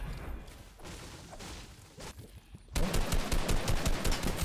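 Rapid gunshots in the Fortnite video game, a few scattered shots at first, then a loud, fast, evenly spaced burst of automatic fire running through the last part.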